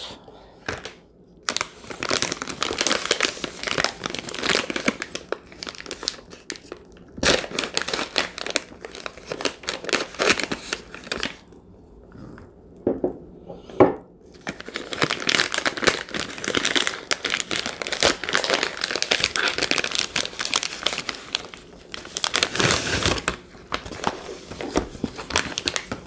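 The cardboard box and plastic packs of a Spanish military MRE combat ration, lunch B4, are opened: long stretches of crinkling, tearing and rustling up close, broken by short pauses, with no talking.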